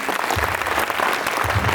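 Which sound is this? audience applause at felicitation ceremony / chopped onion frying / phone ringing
audience applause at felicitation ceremony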